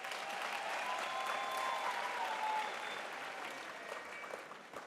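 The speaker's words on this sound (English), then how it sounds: "Can you therefore then give yourselves here a big round of applause?" Sustained applause from a large audience at a university graduation ceremony in Limpopo, steady dense clapping throughout that tapers slightly toward the end, with no talking.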